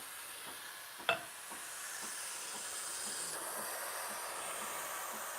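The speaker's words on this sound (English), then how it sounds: "I like to let the steam kind of sit there for a second." The steam wand of a Breville Barista Express espresso machine gives a steady, fairly faint hiss, with a single sharp click near the start and no talking.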